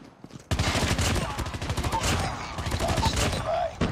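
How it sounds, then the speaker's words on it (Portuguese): Rapid, loud bursts of gunfire in Call of Duty after a brief quiet moment, including a grenade launcher shot, continuing densely with small explosive pops. "dei um tiro com a granadeira"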